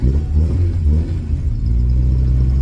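A Mini car engine revs while driving after repairs, with improved throttle response, a close, deep rumbling drone that swells and dips with the throttle, steady and loud without voices.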